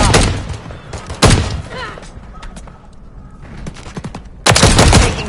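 Call of Duty Modern Warfare III gunfire in two loud bursts of rapid automatic shots separated by quieter single shots, with a game voice calling out between them.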